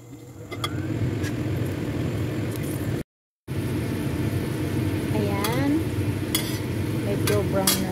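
Whole garlic cloves frying in a pan for a dried fish, tofu and peanut dish, a steady broad sizzle with stirring scrapes, briefly cut out, with faint voices in the background.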